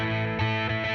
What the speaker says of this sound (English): Then I have another electric guitar here.